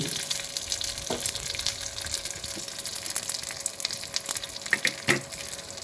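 Garlic cloves and curry leaves frying in a pan for a ridge gourd and tomato curry, a steady crackling sizzle with a few sharper pops and clicks near the end, close with no voices.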